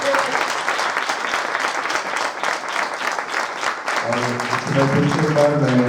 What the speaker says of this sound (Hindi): सबके लिए एक बार जोरदार तालियां संडे स्कूल बोर्ड के